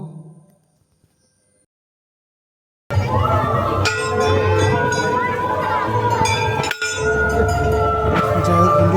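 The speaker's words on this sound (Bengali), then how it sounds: "অনেক বড় ঘন্টা রয়েছে এখানে" A large bell rings at a Kali temple in Purulia during a crowded Kali Puja night. The clip opens with near-silence, then a sudden loud, sustained metallic clanging rises over the din of the crowd and continues to the end, with people talking nearby.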